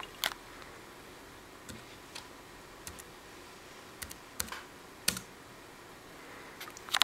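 A Bluetooth wireless keyboard is tapped to enter a pairing passkey on an iPhone 3GS running iOS 4, giving sparse, crisp single key clicks spaced irregularly over a faint hum.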